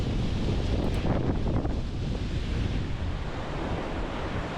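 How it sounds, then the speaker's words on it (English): A small waterfall at a remote camp spot in Lockhart Basin, Moab, gives off a steady, full rush of falling water, loud and continuous with no pauses. "follow the sound of the water and you see this small waterfall in your own tiny private beach"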